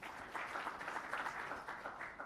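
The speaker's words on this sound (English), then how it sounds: "So huge round of applause to Abhijit, please." A short stretch of audience applause at an infrastructure and BIM industry event, steady and moderately loud clapping from a crowd with no talking over it.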